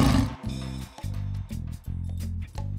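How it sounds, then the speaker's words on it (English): A lion lets out a short, loud roar at the start, quickly giving way to bouncy music with rhythmic pulses that fills the rest. "Lion."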